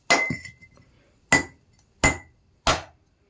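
Hammer striking an old pot, four sharp ringing metallic clanks, close and loud, the first followed by a short ringing tail, then three evenly spaced blows.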